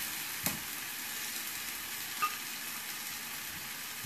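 Zucchini frying in a pan with a steady, dense sizzle and a couple of soft clicks, close by and with no talk.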